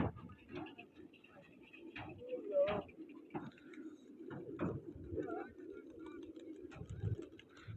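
Racing pigeons gathered for a competition coo and flutter in soft, irregular bursts, fairly close and quiet, while people talk intermittently nearby.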